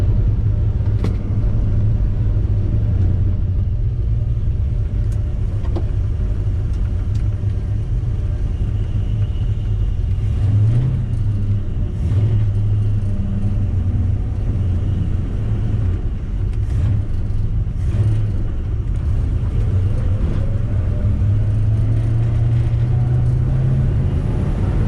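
A Dodge Dart driven hard and drifting, with a constant loud engine rumble and road noise from inside the car, broken by occasional higher tire or engine sweeps, with no talking.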